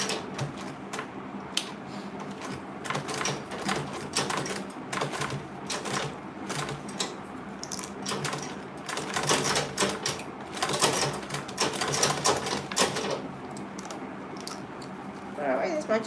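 Sewing machine back stitching a mini tote bag, a steady run of rapid mechanical stitching clatter with brief pauses, moderately close and fairly quiet.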